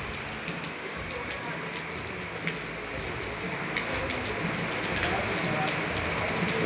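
Heavy rain pours down in a steady, dense hiss of drops pattering on a surface, continuous throughout with no pauses.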